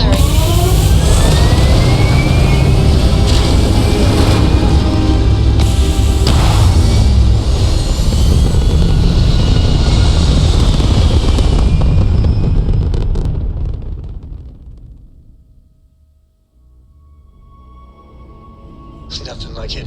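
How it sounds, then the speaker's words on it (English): Spaceship thrusters roaring in Starfield, a loud, sustained rumbling blast with rising whine that holds steady, then fades away into near silence before a faint sound returns at the end. "All thrusters firing."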